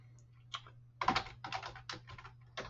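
Code being typed on a computer keyboard, bursts of quick clicking keystrokes in short irregular runs with brief pauses, close and fairly quiet over a low steady hum.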